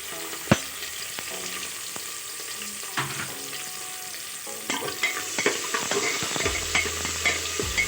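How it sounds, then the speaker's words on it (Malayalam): Chopped onions fry in a pan with cloves, cardamom and mace, crackling and sizzling up close. A spoon scrapes and stirs irregularly, and the frying grows busier toward the end. "ചെറുതായിട്ടൊന്ന് ചൂടായി വരുമ്പോഴത്തേക്കും നമുക്ക് ഉള്ളി ഇട്ട് കൊടുക്കാം."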